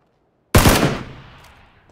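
Automatic gunfire in the video game PLAYERUNKNOWN'S BATTLEGROUNDS (PUBG): one loud, close burst of rapid shots starts abruptly after silence, then fades into a lingering echoing tail.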